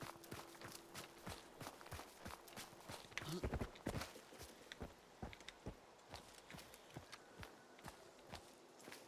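Steady rhythmic horse hoofbeats clopping along at a trot in the video game Hunt: Showdown, close and continuous, with some soft background noise and a brief louder scuffle midway.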